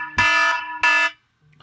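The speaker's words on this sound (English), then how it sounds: "that's the alarm that goes off right there" An electronic alarm sounds two sustained, harmonically rich buzzing tones, each about a second long with a brief gap between, loud and clear with no voices.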